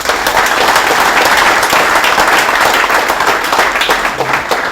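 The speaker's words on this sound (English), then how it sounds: "Please give them a round of applause." Loud, sustained applause from a sports hall of fame induction audience honoring a 1965 track and field team, a thick, continuous roar of many hands clapping close by.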